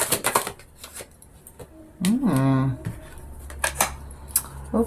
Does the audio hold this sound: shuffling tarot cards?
yes